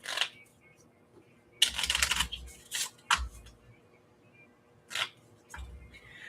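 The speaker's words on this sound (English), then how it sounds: "you just pull a chunk out here so I can shuffle these suckers up." A deck of question cards is shuffled by hand in several crisp riffling bursts separated by quiet pauses, close and fairly loud, with no talk.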